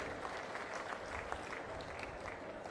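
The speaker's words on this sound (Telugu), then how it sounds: "గట్టిగా చప్పట్లు కొట్టి అభినందించండి." An audience applauds during a Chandrababu Naidu speech, a steady, fairly soft patter of many hands clapping that continues evenly through the moment.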